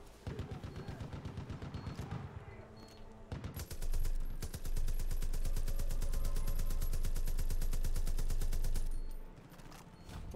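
Gunfire in Far Cry New Dawn with enemy shotgun blasts in the mix, a dense run of loud rapid shots that intensifies midway and holds steady for several seconds before easing.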